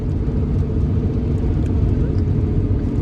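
Steady low rumble of a car cruising on a long highway drive through Ohio, continuous road and engine noise filling the cabin throughout with no voices.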